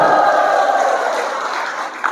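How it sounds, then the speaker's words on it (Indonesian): An audience at a religious lecture gathering applauds with a steady, dense wash of clapping that holds evenly throughout. "Tepuk tangan"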